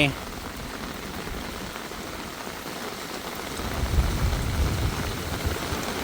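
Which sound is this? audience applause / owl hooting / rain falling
rain falling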